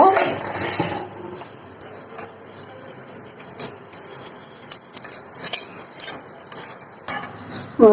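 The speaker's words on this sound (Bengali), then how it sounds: "আমি এখন জিরাটা টেলে নিব।" Cumin seeds being dry-roasted in a pan, with a spatula scraping and clinking against the metal in irregular bursts, grainy rustling of seeds between strokes, close and moderately loud.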